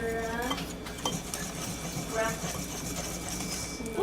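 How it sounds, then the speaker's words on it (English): Gluten-free cinnamon roll dough is whisked in a bowl, a soft, steady scraping and stirring close by with faint clinks against the bowl, while a voice talks over it in places. "we're just going to mix everything together"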